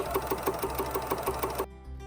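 A sewing machine stitches an oversized tee shirt dress in a fast, even run of needle strokes, close and clear, then stops abruptly, leaving a low hum.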